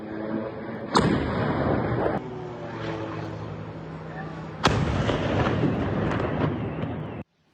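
Two sharp, heavy explosion blasts about four seconds apart at a factory in Cheboksary, each followed by a sustained roar and rumble, recorded outdoors from a distance.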